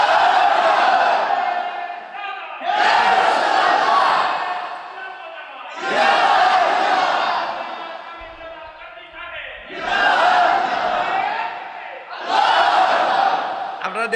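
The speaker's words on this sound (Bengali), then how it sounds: "একটা দিলাও তাকবীর জোরে।" A large crowd at a Bengali Islamic religious gathering (waz) shouts takbir in unison, five loud, booming collective chants rising and falling in a steady rhythm with brief gaps between them.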